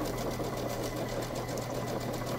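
Stitching back and forth over bag handles, a sewing machine runs in a continuous rapid mechanical whir that stays low and steady throughout.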